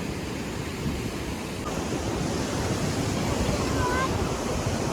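A large body of water rushes past nearby in a loud, steady, broadband roar like surf or a waterfall, constant for the whole stretch, with faint voices briefly audible beneath it.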